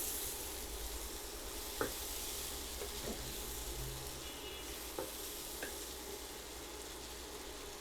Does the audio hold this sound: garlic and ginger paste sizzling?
yes